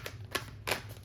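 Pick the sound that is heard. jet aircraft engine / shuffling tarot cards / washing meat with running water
shuffling tarot cards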